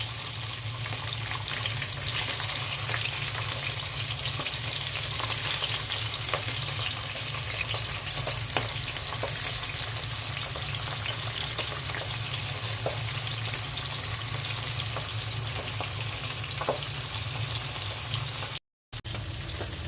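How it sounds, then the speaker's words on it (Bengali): Pabda fish frying in hot oil in a pan, a continuous broad sizzle with faint crackles and pops, steady and close for the whole stretch, with one brief dropout near the end and no talk. "পাবদা মাছটা তেলে দিয়ে দিচ্ছি"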